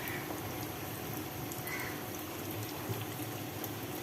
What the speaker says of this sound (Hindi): बस 2 ही ऐड होने हैं, 2-2 करके हम सभी को फ्राई कर लेंगे